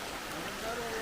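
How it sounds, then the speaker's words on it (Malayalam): Heavy rain falling in a steady, dense wash of hiss close by, with a voice speaking faintly underneath. "മഴയാണല്ലോ, നല്ല മഴ"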